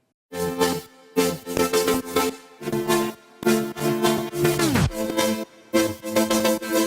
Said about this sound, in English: The chords are made up out of 3 layers.